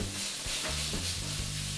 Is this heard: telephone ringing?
no